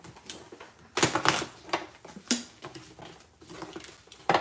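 A deck of reading cards shuffled by hand, quick papery riffles and flicks in short bursts, close and moderately loud, with no talk over them.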